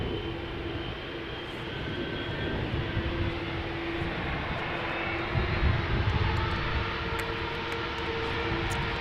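A KLM airliner taking off at Amsterdam Schiphol gives a steady, broad jet roar with a tonal engine whine, holding loud and constant throughout, swelling slightly midway, with no voices.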